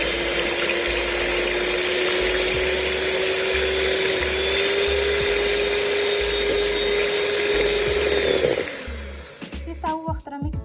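An electric hand mixer whirs steadily as it beats cake batter, a loud continuous motor hum with a faint rhythmic knocking beneath, before it cuts off and a few clatters follow.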